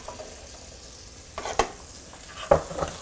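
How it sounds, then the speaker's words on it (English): Chopped onions frying in melted butter in a pan, a steady soft sizzle with a couple of louder stirring and tossing scrapes, close up and without speech. "So now I'm adding my onions to my butter."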